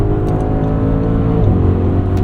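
2024 Audi SQ8 engine pulling hard out of a corner, a loud, close interior drone with rising and shifting pitch, steady throughout with no talk.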